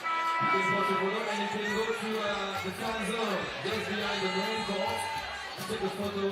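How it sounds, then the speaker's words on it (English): A crowd cheers and chatters at a women's 3x3 basketball finals game in Debrecen, a steady roar of the packed house running continuously beneath a commentator's talk. "The crowd is into it."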